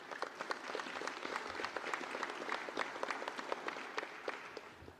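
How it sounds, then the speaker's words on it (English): Crowd applause at an Army ROTC cadet commissioning ceremony, many hands clapping in a dense, sustained burst that stays steady for several seconds at moderate distance. "Another round of applause."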